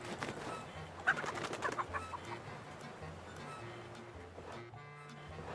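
Chickens in the video game Unlost cluck close by in a short burst over a low, steady background hum, then quieter scattered clucks follow.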